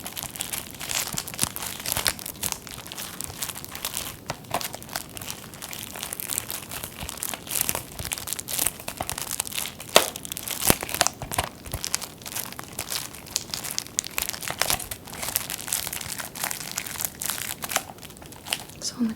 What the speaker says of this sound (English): it does make some great crinkly plastic sounds